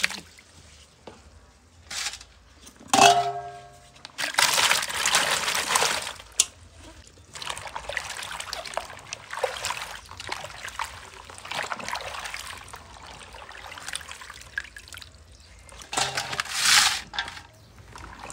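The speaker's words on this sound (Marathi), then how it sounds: "एकदा स्वच्छ पाण्याने धुवून घ्यायचं ना," Fresh-cut potato chip slices rinsed in clean water in a home kitchen, with intermittent splashing, sloshing and clattering bursts of wet slices being stirred and handled, no talk.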